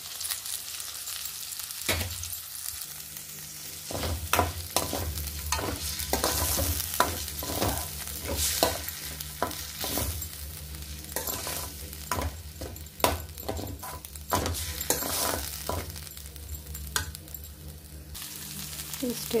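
Boiled gongura leaves sizzle in a hot pan of tempered oil while a utensil stirs and scrapes in repeated strokes, with steady frying hiss underneath and no talk.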